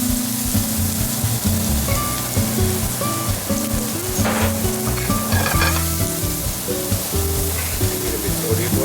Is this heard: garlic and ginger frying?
yes